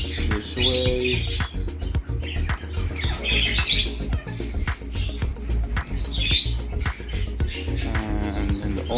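Pet canaries chirp and squawk in an indoor bird room, a busy, close chorus of high tweets, trills and harsh calls that continues without a break.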